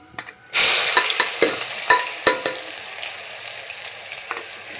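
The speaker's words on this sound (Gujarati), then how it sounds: "તો અત્યારે હવે આપણી ડુંગળી થાય છે ફ્રાય" Onions dropped into hot oil with garam masala for a chicken curry, a sudden loud burst of sizzling that settles into a steady hiss with sharp spatula clicks and scrapes, no talking.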